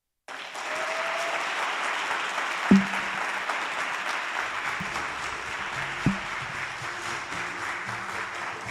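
Audience applause at a youth weekend event in the Northern Cape, steady clapping from a crowd that starts abruptly and continues throughout, with a couple of sharp knocks or thumps cutting through.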